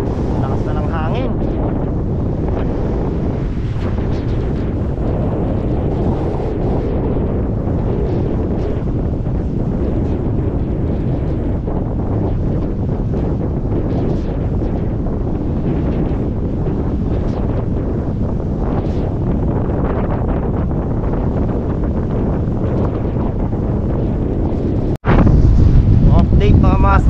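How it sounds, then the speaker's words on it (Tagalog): Strong, steady wind roars and buffets the microphone on a fishing boat at sea, with water rushing beneath; a voice speaks briefly, and the gusts briefly spike near the end. "Lakas na ng hangin."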